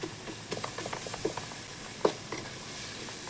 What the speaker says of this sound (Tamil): மஞ்சள் போட்டு 2வது உப்பு போட்டேன். நல்லா வதங்குது.